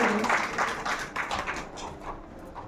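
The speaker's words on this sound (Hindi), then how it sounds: "जोरदार तालियों के साथ अनिल सर का स्वागत करिए" An audience gives sustained, dense clapping to welcome a speaker at a talk, a continuous crackle of many hands near and loud, fading slightly toward the end.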